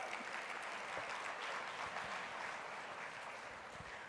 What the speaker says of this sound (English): as we welcome him with a beautiful round of applause